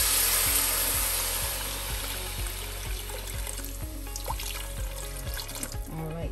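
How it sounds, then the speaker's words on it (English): Water is poured from a tap or jug into a cooking pot already holding onion powder and garlic powder, a continuous splashing pour at moderate volume with a faint low ticking pulse beneath it. "And now we're gonna add our water."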